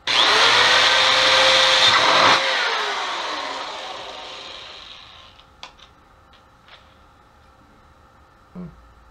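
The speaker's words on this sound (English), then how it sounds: "I'm going to drill a little pilot hole" A power drill bores a small pilot hole at the center of a part for a DIY smoke machine, whining loud and close for about two seconds, then spinning down, followed by faint clicks and handling noises.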